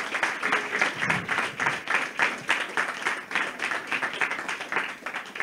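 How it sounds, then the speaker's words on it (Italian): Sustained applause from an audience at a political party's presentation of local election candidates and their program, a dense, steady patter of clapping in a room with little talk. "Bravo Claudio, ti sei preso un bel applauso."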